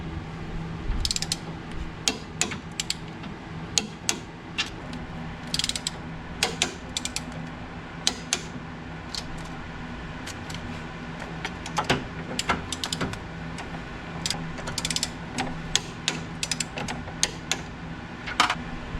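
Rapid ratchet clicks from a torque wrench tightening bolts on an adjustable front sway bar of an S550 Mustang GT, coming in short bursts of close, sharp mechanical ticks with pauses between pulls, no talk.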